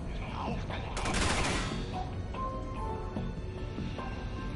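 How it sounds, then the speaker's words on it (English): Gunfire in Resident Evil 6, a dense burst of rapid shots around the middle, loud and close, with game sounds and a voice continuing underneath. "Shooting at nothing, mate. Shooting at nothing."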